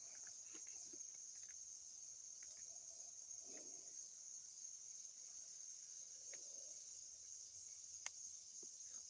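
A constant high, shrill buzz of cicadas drones throughout at Parlee Field on the Gettysburg Battlefield, with a few faint scattered clicks and taps underneath.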